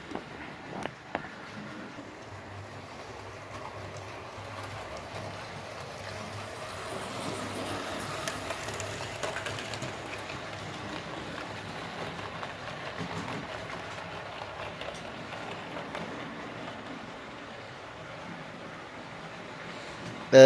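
A Bachmann LMS Crab model train hums and rattles steadily along its track for a long stretch, faint and continuous, with a few clicks near the start.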